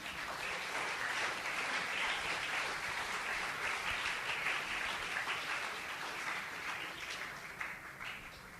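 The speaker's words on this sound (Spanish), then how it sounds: "Dale otro aplauso de gloria al Señor." A church congregation applauds in praise, a dense, steady wash of clapping that holds for several seconds, then gradually thins and fades toward the end; no one speaks over it.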